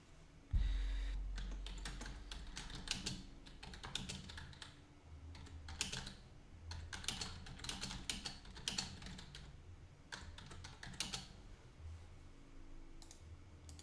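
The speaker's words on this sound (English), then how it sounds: "So let's type it right here on the chat." Typing on a computer keyboard into a live chat: soft, close key clicks in irregular bursts and flurries, with short pauses between, fairly quiet throughout.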